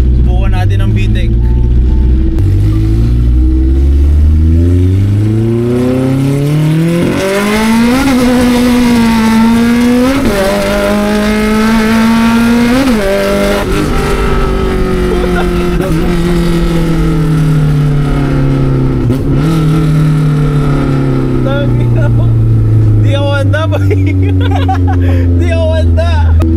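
A Honda Civic SiR engine revs hard through the gears while accelerating, its loud, climbing wail surging into VTEC several times with brief dips at shifts, heard from inside the car with voices underneath.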